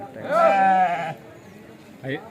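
A sheep bleats loudly and up close in a long wavering call, followed by a shorter second bleat, at the weekly sheep and goat market in Kadiri.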